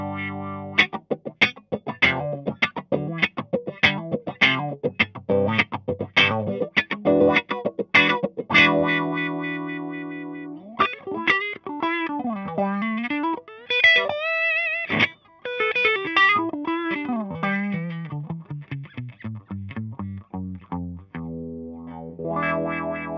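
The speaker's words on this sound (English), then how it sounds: "Now engaging the wah" Electric guitar through a Dunlop Mini Cry Baby wah pedal into a Supro Dual Tone amp: choppy strummed chords at first, then sustained notes swept up and down in a vocal, quacking tone.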